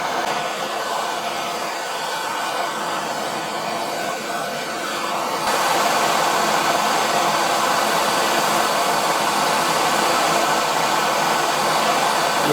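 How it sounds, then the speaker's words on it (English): A small propane torch roars steadily while heating copper for silver soldering, a broad continuous hiss that gets louder and fuller partway through, close and unbroken with no talk. "I should be able to get enough heat out of this little propane torch"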